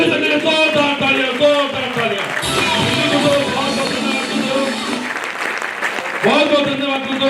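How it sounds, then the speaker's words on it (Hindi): An audience at a recognition ceremony in Jamshedpur rises for a standing ovation in honour of a mentor. Loud, dense clapping swells in the middle and is layered with a voice or music throughout. "और मैं जरूर चाहूंगा उनके सम्मान में खड़े होकर जोरदार तालियों पर बजाय मेरे गेट मेंटर ओम प्रकाश चौधरी के लिए जोरदार"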